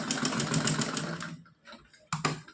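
A sewing machine stitches a small dress for a Laddu Gopal figure in a quick, rapid whir that stops, then picks up again in two brief bursts, close and fairly quiet.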